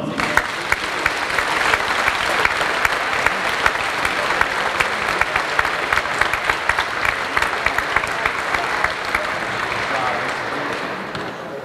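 Loud, sustained applause from a crowd at a political campaign launch in Timișoara, dense and even throughout with occasional sharper individual claps standing out.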